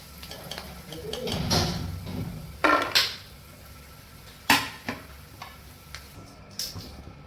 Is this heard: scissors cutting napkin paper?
no